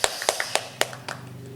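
A handful of sharp, separate hand claps ring out in a loose, uneven rhythm, close and fairly crisp, more like a few people clapping than a full round, and fading out after a second or so.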